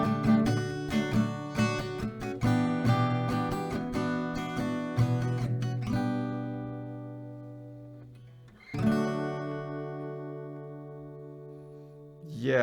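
On acoustic guitar, a round of strummed C and then D is followed by a single down-strum on F and one on C, close-miked, each final chord left ringing out.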